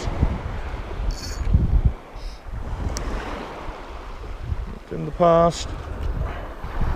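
Gusty wind blows on a steeply shelving shingle beach in the UK as low buffeting rumble on the microphone with surf behind it, while a person talks and brief mechanical clicks sound near the end.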